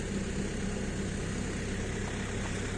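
A DTZ 5404 tractor engine idling while warming up, a steady low diesel rumble that stays even and continuous from start to finish.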